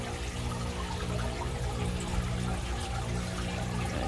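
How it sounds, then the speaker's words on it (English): Vinegar pours steadily into a measuring cup while an aquarium-cleaning solution is mixed, a continuous close liquid trickle and splash with a low hum underneath and no talking. "if you would put that first cup of the vinegar in"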